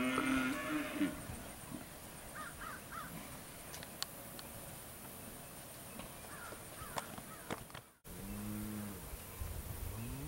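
Cattle low and moo at a livestock auction, several calls scattered through a noisy sale barn with crow-like caws, a brief dropout, then a loud deep moo close by near the end.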